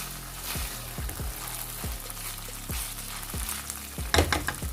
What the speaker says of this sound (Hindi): इसको अच्छे से मिक्स कर लें।